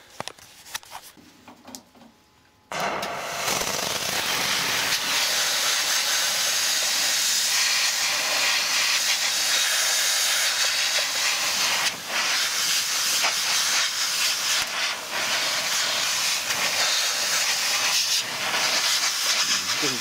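A loud, steady hiss of steam from a Rancilio espresso machine's steam hose blasting out continuously at a dirty microwave after a brief quieter start, broad and rushing with slight fluctuations throughout.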